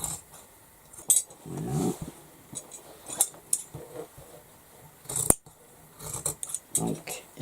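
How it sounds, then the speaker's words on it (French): Scissors cutting along the side of patterned fabric for a tote bag, heard as a few crisp snips and metallic clicks close by, with a brief spoken word. "Et je vais couper sur le côté."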